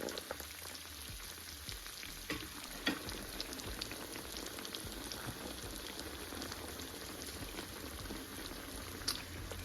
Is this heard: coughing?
no